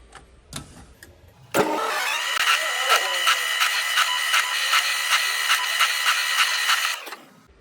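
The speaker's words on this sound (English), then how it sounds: "Just put a countersink bit in there now, just so I can go through, countersink them all in" A power drill fitted with a countersink bit countersinks holes in a nail puzzle board. A few clicks come first, then a steady motor whine with a rhythmic pulse runs for several seconds before winding down and stopping.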